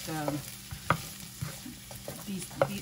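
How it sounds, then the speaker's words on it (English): Onions go into a sizzling beef stir fry, a steady close frying hiss broken by spatula scrapes and clatters against the pan at irregular intervals, with no talk. "Now I am going to add onions"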